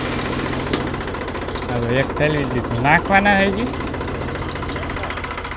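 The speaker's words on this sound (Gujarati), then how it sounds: "આપણે છે ને ટ્રેક્ટર આવી ગયું છે માંડવી વાવવા" A tractor engine idles steadily in the background while peanuts are sown in a village field near Botad, a low continuous rumble beneath someone talking up close.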